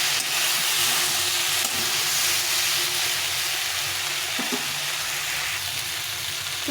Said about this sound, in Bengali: টমেটোটা দিয়ে একটু কষিয়ে নেবো।